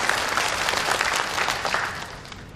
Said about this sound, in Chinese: 接下来让我们掌声有请 ACM 集训队队长